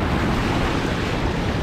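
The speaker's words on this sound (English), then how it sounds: "See these rogue waves every now and then." Storm surf pounding a beach, a continuous loud, dense roar of crashing waves with wind buffeting the microphone throughout.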